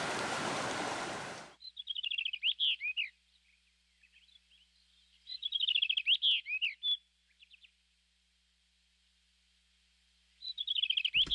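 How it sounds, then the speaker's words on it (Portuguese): A common kingfisher near fish-rich water gives bursts of high, sharp, rapid piping calls. Three separate clear series come through against a very quiet background. "A fartura de peixes atrai o habilidoso martim pescador."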